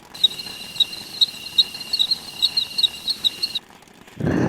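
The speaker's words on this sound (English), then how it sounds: "That one needs crickets." Cricket chirping played as a comedic silence effect after an unfunny joke, steady rhythmic pulses for about three and a half seconds, loud and clear with no talk, then cut off by a brief burst of noise.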